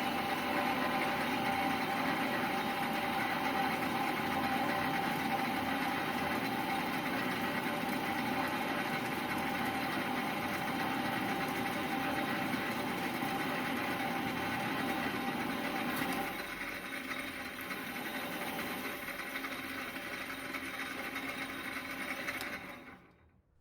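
A lathe turns metal with an oiled, homemade high-speed steel cutting tool at about 400 rpm, making a steady, continuous motor hum and cutting drone that shifts slightly partway through and then stops abruptly at the end.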